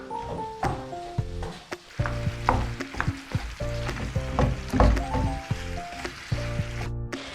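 Steady loud sizzling of leeks frying in a pan, with repeated scraping and clattering as they are stirred.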